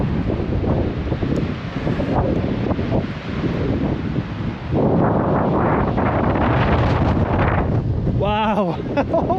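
Strong coastal wind on Scotland's NC500 cliffs roars and buffets the microphone throughout, a constant heavy rush of noise that swells louder midway, with a brief whistling tone near the end.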